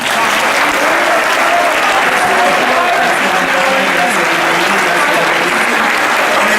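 A packed hall at a civic-religious meeting bursts into sustained, loud applause, many hands clapping densely and evenly throughout, with faint crowd murmur underneath.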